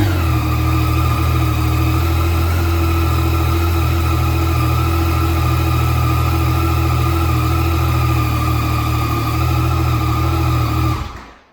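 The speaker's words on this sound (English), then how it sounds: "I'm gonna fire this bike up, see how it sounds." A motorcycle engine runs steadily at idle, a loud, even low rumble held close by for about eleven seconds before cutting off abruptly at the end.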